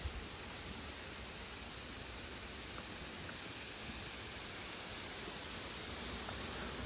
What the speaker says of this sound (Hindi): और ये लीजिए, अब आप दर्शन करिए जूडो वाटरफॉल के।